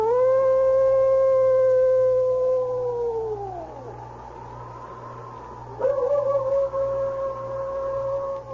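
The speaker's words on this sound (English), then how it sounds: "a long howl broke the stillness" A long, drawn-out animal howl from a radio drama about the Yukon snow country, rising then sliding down, followed by a second sustained wavering howl with a sharp onset, loud and alone.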